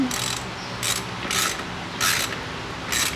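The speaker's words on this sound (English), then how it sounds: "I'm gonna get a ratcheting wrench." A ratcheting wrench clicks in loud, separate bursts as it turns bolts on the front brake of a 2004-2008 Pontiac Grand Prix, five quick runs of ratchet chatter at close range with brief pauses between them.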